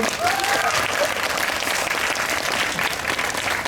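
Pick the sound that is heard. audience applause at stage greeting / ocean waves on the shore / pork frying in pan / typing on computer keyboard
audience applause at stage greeting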